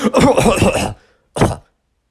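A boy imitates a loud cough with his voice, giving a long rasping, throaty burst followed after a pause by one shorter hack, both close and forceful.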